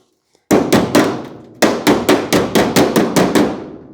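Hammer blows on sheet metal while shaping a car fender, ringing metallic strikes: three quick hits, a short pause, then a steady run of about nine evenly spaced, loud, close blows.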